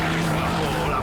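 A car being thrown around a race track on a track day, its tires skidding and squealing under a loud, steady engine drone that runs the whole moment without pause.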